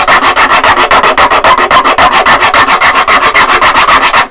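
Hand sanding and fitting work on a Seagull Entourage acoustic guitar: quick, even rubbing strokes, roughly four or five per second, scrape back and forth close up and loud, with no speech.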